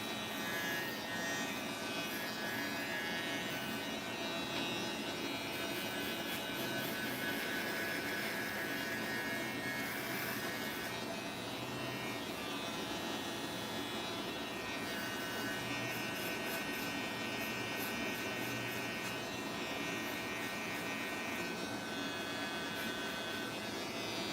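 An electric shaver is used to finish a tapered haircut, a faint, steady buzzing hum that runs unbroken for over twenty seconds with no one talking.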